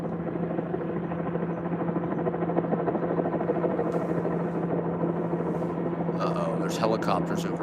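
Helicopters drone overhead in a steady, buzzing rotor hum that fills the background while a person talks.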